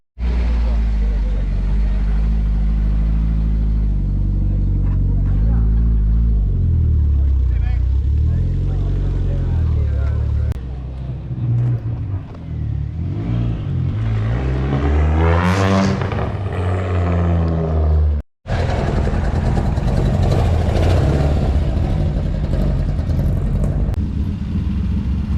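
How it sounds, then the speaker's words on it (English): Aston Martin and Porsche engines rev loudly at a Cars and Coffee meet, deep rumbling swells rising and falling close by, with a brief cut near the end before the roar resumes. "Aston Martin and the Porsche over there, making a bit of a racket"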